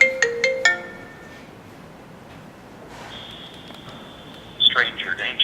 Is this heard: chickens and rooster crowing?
no